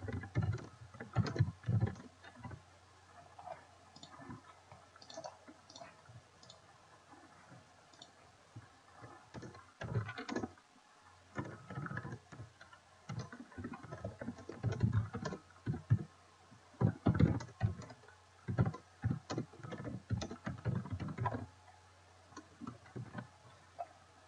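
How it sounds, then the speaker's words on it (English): Computer keyboard typing at close range, with irregular bursts of key clicks and short pauses, fairly quiet and without talk. "so let's type something like this"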